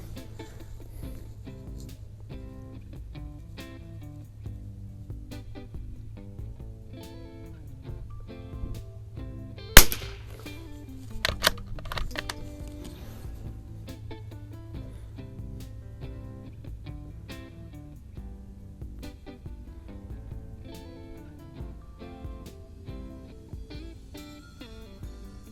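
A Mossberg 46b tube-fed bolt-action .22 LR rifle fired at an outdoor range, one sharp crack standing out near the middle and a fainter follow-up shortly after, heard over a steady low background hum.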